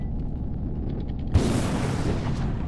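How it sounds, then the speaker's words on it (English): A drone exploding in a video game: a sudden loud blast hits partway through, preceded by a low engine-like hum and followed by a decaying rumble. "they're still blowing up immediately"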